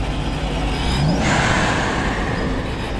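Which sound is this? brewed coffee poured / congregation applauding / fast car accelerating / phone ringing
fast car accelerating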